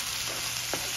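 Beans stirred into a simmering beef taco soup make a brief, close sizzle with a single soft scrape of a spoon partway through.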